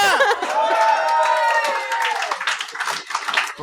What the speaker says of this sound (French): Une bonne main d'applaudissement!